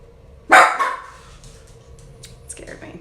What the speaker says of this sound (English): That's dogs. It's a Maltese and a miniature wiener.